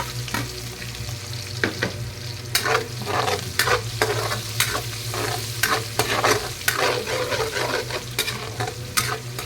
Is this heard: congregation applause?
no